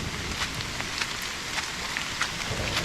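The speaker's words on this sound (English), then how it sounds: "I know it's raining rather hard, plus the thunder" Heavy rain pours steadily in a forest during a storm, a dense hiss with faint drop taps throughout and no distinct thunder crack standing out.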